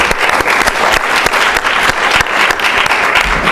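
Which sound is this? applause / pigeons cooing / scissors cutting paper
applause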